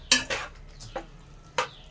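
A spoon stirring chicken curry in a cooking pot, four sharp metallic scrapes and clinks spaced irregularly against a faint background, with no talking.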